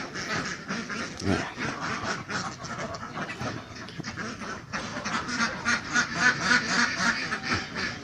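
A flock of CP Super and Khaki Campbell laying ducks quack continuously in overlapping calls, fairly close and loud, with no talking.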